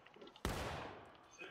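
A loud gunshot cracks in the American Civil War video game War of Rights, a single sharp report with a long rolling echo tailing off, over faint distant battle noise.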